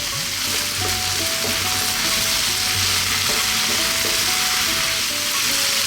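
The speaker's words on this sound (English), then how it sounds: "let's throw this around now on a kind of medium or above medium heat" Beef tossed in a pan over medium-high heat sizzles steadily and loudly throughout, with scattered clinks of a utensil against the pan, no talking.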